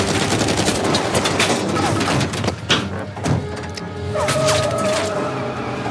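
Heavy automatic gunfire in Uncharted 4 on PS5, rapid overlapping shots and crashes that keep up a loud, steady barrage, followed by clattering mechanical sounds near the end, no speech.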